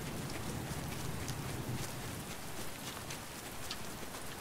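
Rain patters in the video game Last Day of June, a soft, even spatter of drops with faint light ticks, quiet and continuous.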